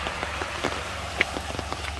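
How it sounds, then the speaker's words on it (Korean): Rain falls outdoors during a summer trip to a Korean seaside spot, a soft, steady patter of drops with a few sharper taps over a low, constant background hum. "빗소리를 들어보세요."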